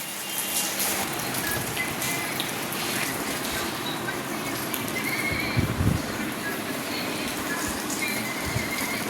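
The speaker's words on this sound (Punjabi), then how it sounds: "ਮੀਂਹ ਕਾਫੀ ਪੈ ਰਿਹਾ ਮੀਂਹ ਬੰਦ ਹੀ ਨਹੀਂ ਹੋ ਰਿਹਾ" Rain pours down in a dense, steady hiss, with a horse's whinny and hoof clops mixed in nearby.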